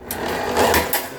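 A copper wire stripping machine runs short wire pieces through, giving a steady close mechanical whir with rapid clattering pulses throughout.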